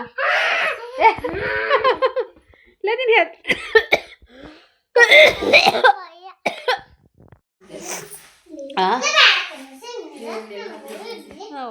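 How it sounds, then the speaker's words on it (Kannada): Repeated coughing fits break out among children's voices and chatter, loud and close, with sharp bursts scattered through stretches of talk and brief silent gaps. "ಫುಲ್ ಕೆಮ್ಮು ಬಂದ್ಬಿಡ್ತು"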